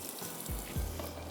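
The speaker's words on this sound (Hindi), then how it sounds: "इसको भी आप 2 मिनट फ्राई कर दीजिए।" Chopped green chili and finely minced ginger frying in oil in a pan, a steady close sizzle with a couple of brief stirring scrapes, no voices.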